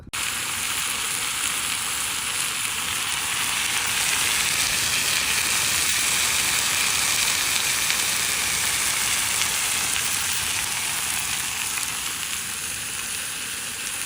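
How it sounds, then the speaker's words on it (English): Bacon frying in a pan at an outdoor carp-fishing spot, a loud, steady, close sizzle and hiss that carries on unbroken with no talking. "So the bacon is on."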